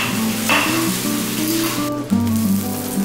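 Vegetables, carrots among them, frying in sunflower oil in a pan or wok, a steady close sizzle that runs unbroken for a few seconds with a brief stirring clatter partway through.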